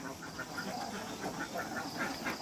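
Several farm ducks quack repeatedly from a pen in the near distance, short nasal calls overlapping against a steady background hum.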